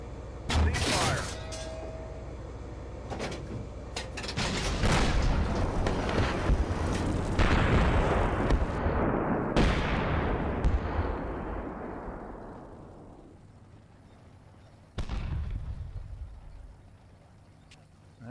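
Heavy artillery and gunfire in the tank simulator Steel Beasts Pro, set in a 1978 German task force scenario: a burst of sharp cracks and booming blasts that roll on and fade, then one more loud shot near the end, with no talk.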